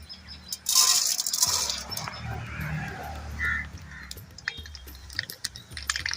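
Mustard, cumin and fennel seeds splutter in hot oil for a pepper chicken dish, with sharp crackles and scattered pops. A noisier sizzling burst comes early, and quicker clicking pops follow toward the end.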